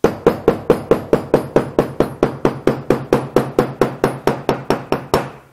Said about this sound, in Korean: 이렇게 붙이고 나면 망치질을 해주세요.